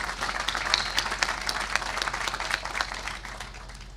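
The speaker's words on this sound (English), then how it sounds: "Let's give him a round of applause" A crowd applauds at a stadium topping-out ceremony at Nippert Stadium, a dense, steady wash of clapping that holds for several seconds at a moderate level with no talk over it.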